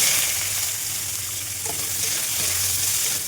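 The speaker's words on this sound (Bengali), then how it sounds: "এটা একটু লাল লাল করে ভেজে নেবো আগে" Chopped onions and cumin seeds sizzle in hot oil, a steady bright crackling hiss with light stirring, close and continuous.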